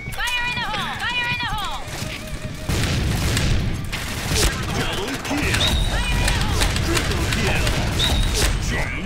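Rapid bursts of video game gunfire spray over loud music and effects, with someone talking excitedly throughout.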